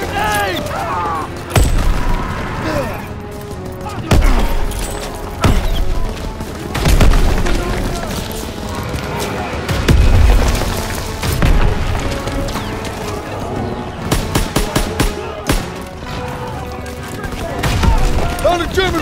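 In a Call of Duty WWII battle, a grenade blast and dense bursts of gunfire crash throughout, mixed with booming impacts and shouting soldiers' voices in a loud, continuous war scene.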